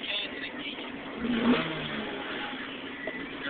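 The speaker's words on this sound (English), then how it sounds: "You can hear the engine more" A 1999 Honda Civic Type R with a B20B engine revs from inside the car with the windows up, a steady engine drone swelling briefly mid-clip under muffled cabin noise.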